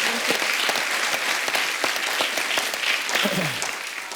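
Loud, lively applause from an audience, dense clapping sustained throughout with a brief voice rising near the end.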